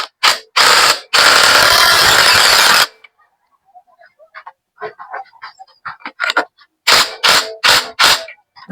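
A tool works on the clutch drum lock nut of an XR200 motorcycle during a clutch lining change, giving close bursts of harsh, rapid clicking and whirring separated by quieter gaps with faint small clinks.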